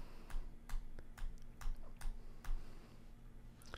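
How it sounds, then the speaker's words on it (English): Page down key on a computer keyboard is pressed repeatedly, producing sharp, close clicks spaced roughly every half second against a quiet background hum, with no talking. "I'm just hitting down on the page down on the keyboard"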